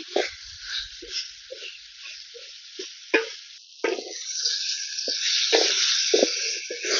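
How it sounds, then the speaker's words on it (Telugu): Ridge gourd with tamarind sizzling in a pan, a soft crackle and hiss with scattered pops and drips, close and fairly quiet, stirring sounds appearing now and then. "ఇప్పుడు నిమ్మకాయ సైజ్ అని చింతపండు వేసుకుందాం వేసుకొని ఇలాగే ఒక ఐదు నిమిషాలు మగ్గనిస్తున్నామండి"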